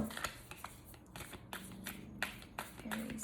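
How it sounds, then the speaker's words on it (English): Stiff tarot cards are shuffled by hand in quick, irregular bursts of riffling and tapping, close up and moderately quiet, with no clear speech. "These are hard to shuffle."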